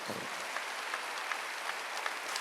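A congregation claps during a Wednesday church worship service, a continuous rhythmic patter of many hands, soft and somewhat distant, with faint regular accents.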